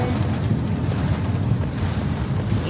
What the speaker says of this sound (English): It is windy and raining. We are driving.